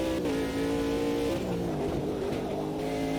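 LMP2 prototype race car in the racing game Automobilista 2, its engine droning at high revs with shifting pitch as it drives on, steady and loud throughout, with no talking.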